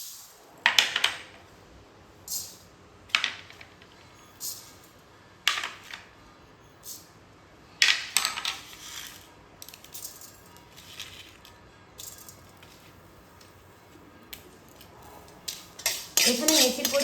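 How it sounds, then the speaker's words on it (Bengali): Whole coriander seeds, fenugreek and two dried red chillies stirred in a dry kadai over low heat, giving intermittent metallic scrapes and rattles every second or two, fairly close, with quiet pauses between. "এবার হালকা আঁচে নাড়াচাড়া করে গোটা মশলাগুলোকে ভেজে নেব"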